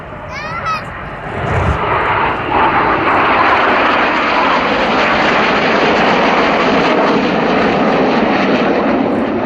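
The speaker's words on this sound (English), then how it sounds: "The inside pilots perform tight, matched barrel rolls to the outside of the formation in the rollbacks." Red Arrows jets roar overhead at the Southport air show while flying formation barrel rolls, a loud, sustained broadband engine rush that swells after a brief quieter start, with a public-address commentator talking over it.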